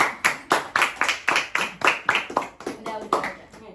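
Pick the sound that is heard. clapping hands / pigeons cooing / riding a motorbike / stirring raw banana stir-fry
clapping hands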